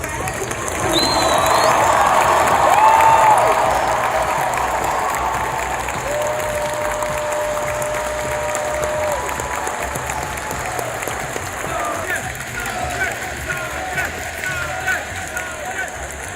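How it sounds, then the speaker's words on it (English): Sustained applause from a large audience at Final Fantasy XIV Fan Festival 2023 in Las Vegas, loud at first then tapering to steady clapping, with scattered cheers and whistles from the crowd. "I would like to ask everybody for a round of applause for my friend."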